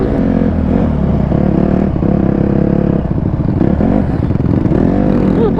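A mini bike engine revs loud and close, a steady throaty drone held at high throttle for the whole stretch with slight rises and dips, no voices over it.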